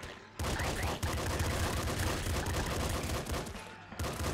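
Rapid machine-gun fire from a frost machine gun in the video game Nuclear Throne, sustained bursts packed with shots and impacts, loud and continuous with brief dips near the start and end.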